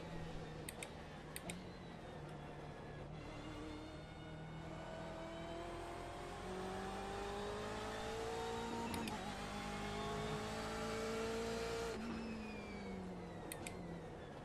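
A Porsche race car engine in iRacing at the 24 Hours of Daytona drones steadily, its pitch climbing through each gear and dropping at every upshift, with a few faint sharp ticks and no talk.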